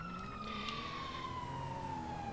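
A police siren wails in GTA V played on a FiveM server, a steady descending electronic tone sustained throughout and heard fairly clearly over a low background rumble.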